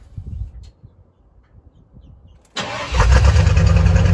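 A 1995 Ford F250 4x4 truck engine cranks and catches after a quiet stretch, then settles into a loud, steady, somewhat rough idle close by.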